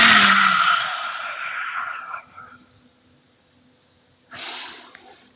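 Forceful lion's breath exhales during a yoga breathing practice: a long, loud breathy rush of air that fades over about two seconds, a quiet pause, then a second strong exhale begins near the end.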